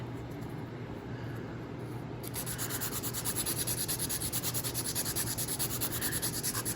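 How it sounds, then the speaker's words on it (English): Electric e-file grinding and shaping an acrylic nail, a steady close whirring rub that starts softly and grows louder and more pulsing after a couple of seconds, with no talking. "So I do lay the acrylic, shape, e-file, shape."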